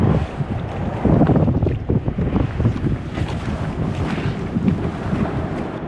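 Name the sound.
wind blowing against a kayak on a river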